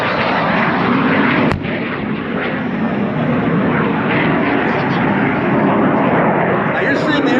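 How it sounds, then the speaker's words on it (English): A restored Vietnam-era warplane carrying four fuel tanks makes a steep 45-degree bombing attack run at a Southern California airshow, its engine roaring loudly and steadily throughout while a voice talks over it. "Watch the steep 45-degree angle bombing attack run"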